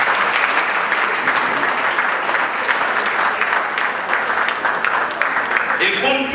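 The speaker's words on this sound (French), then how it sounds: "Applaudissons-la encore une fois." Wedding guests break into dense, sustained applause that fills the whole stretch evenly, with a voice briefly coming through near the end.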